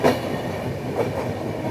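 Duronto Express train (Secunderabad–Nizamuddin) passing through Gwalior Junction without stopping, a steady rumbling rush of rail noise with faint clatter, heard from aboard the moving train.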